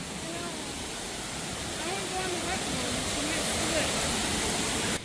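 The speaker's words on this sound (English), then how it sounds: "You're in a waterfall." Steady broadband rushing of a waterfall fills the scene, loud and continuous, with faint voices murmuring underneath.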